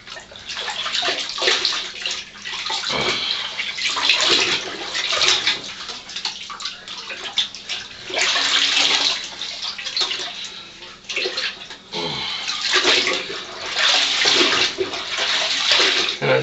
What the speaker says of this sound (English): And I just rinse the skin like that.